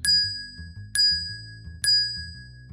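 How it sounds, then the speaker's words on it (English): A bell struck three times in a witches' coven ritual at the altar, each clear ringing strike spaced about a second apart and decaying under a low murmuring background. "Bell is rung 3 times."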